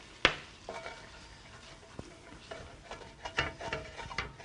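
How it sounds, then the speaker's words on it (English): A wooden spoon scrapes the bottom of a pan as wine deglazes it over low heat for a pepper-crusted standing rib roast, with a sharp clack at the start and then scattered soft scrapes and knocks over a quiet sizzle. "You want to use like a wooden spoon to scrape that pan."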